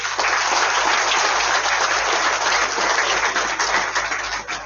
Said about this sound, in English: A huge round of applause एक बार sir के लिए।